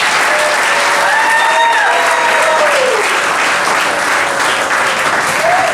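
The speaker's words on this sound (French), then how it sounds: "Applaudissons le roi, s'il vous plaît." Wedding guests clap loudly and continuously for a newly consecrated king at an official wedding ceremony. The applause is close and dense, with faint tonal voices or music drifting underneath.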